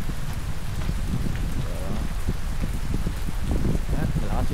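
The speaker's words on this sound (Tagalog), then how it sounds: "Malakas yung ulan." Heavy rain pours steadily during a storm at a mountain campsite on Danasan Peak, a dense continuous patter with scattered drops hitting nearby surfaces, loud and close throughout.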